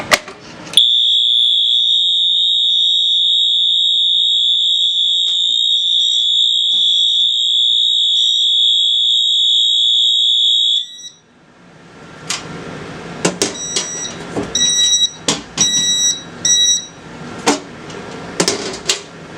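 Wheelock MT-24-LSM fire alarm horn sounding on continuous, a loud piercing steady electronic tone held for about ten seconds before cutting off, followed by scattered clicks and knocks.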